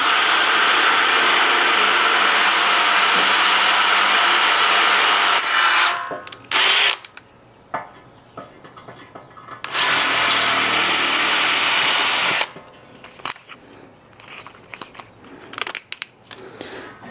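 Power drill boring a hole through the steel frame of a 1976 Jeep CJ-5, two loud sustained bursts of whining drilling separated by quieter handling clatter, with no talking.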